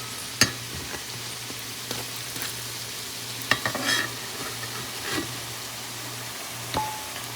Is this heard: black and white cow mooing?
no